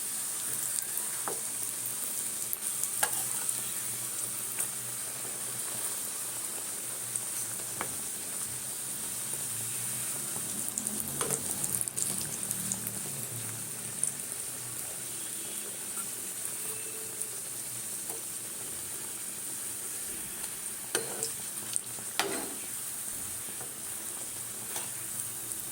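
Pieces of nimki dough deep-frying in oil held on medium heat: a quiet, steady bubbling sizzle with occasional small pops and clicks throughout.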